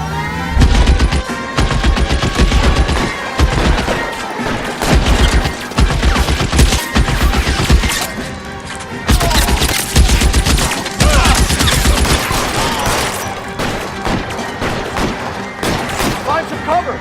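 Dense gunfire in a shootout in the video game L.A. Noire, loud rapid bursts of automatic fire repeating in waves with short gaps, and voices shouting over it.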